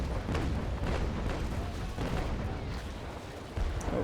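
A ship's cannon broadside fires in Naval Action Legends as a rapid string of booming shots, rolling one after another in loud, continuous thunder with a fresh blast near the end, and no talking.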